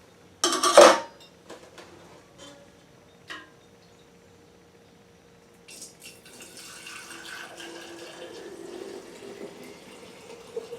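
Cherry moonshine poured into jars, with a sharp glass clink at the start and a soft liquid trickle building up near the end, fairly quiet overall.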